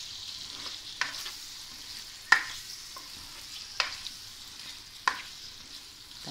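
Two medium tomatoes sautéing in a pan for chicken jalfrezi, a soft steady sizzle with a few sharp spoon clicks against the pan spaced about a second apart, no voices.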